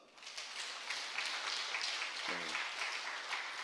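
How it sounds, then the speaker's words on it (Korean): Church congregation at a Korean men's mission dedication worship service clapping for the young people, a soft, fairly distant spread of many hands clapping steadily, with a brief voice breaking in partway. "우리 청년들 박수 한번 칩시다."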